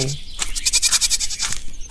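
A voice imitates a goat's bleat in a cartoon story about a wolf, a loud wavering nasal cry held for about two seconds.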